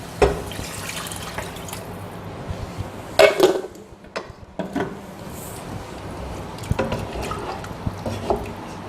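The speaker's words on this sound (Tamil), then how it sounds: "கொஞ்சம் நம்ம தண்ணி சேர்த்துக்கலாம்." Water splashes and trickles into a pot of bitter gourd sambar, with intermittent drips and a louder pour partway through amid light kitchen clatter.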